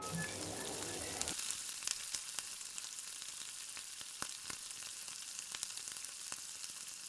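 Spinach paratha fries in oil on a flat pan, a soft steady sizzle with scattered crackles and spatula scrapes, close and alone.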